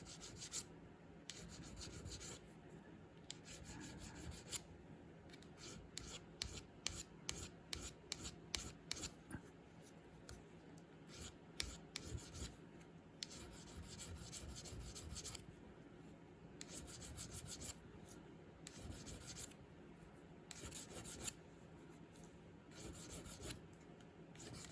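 Parts of a Marlin 81-DL .22 rifle trigger are rubbed smooth with a file or stone, giving faint, close rasping strokes in bursts of quick back-and-forth scrapes separated by brief pauses, with no speech.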